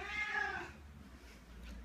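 A hungry cat gives one loud, drawn-out meow close to the mic while it is being fed, followed by quiet household background.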